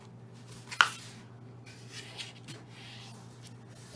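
Paper folded toward the middle and creased by hand for a handmade 3D greeting card, with one sharp crisp crackle early on followed by faint soft rubbing against a low steady hum.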